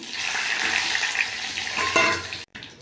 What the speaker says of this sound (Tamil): அதே கடாயில் இப்போ வந்து வத்தல் மிளகாய் சேர்த்துக்கலாம்